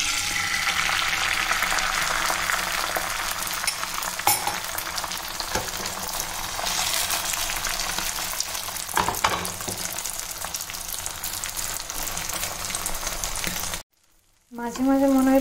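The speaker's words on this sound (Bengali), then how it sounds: "আজকে একটু জিরে আর লঙ্কা দিয়ে ডিমটাকে ভাজবো" An egg fries in hot oil with cumin and chili, sizzling densely and steadily at close range with occasional stirring, before a brief cut near the end.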